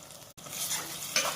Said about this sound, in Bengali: এখানে মশলা কষানো হয়ে গেছে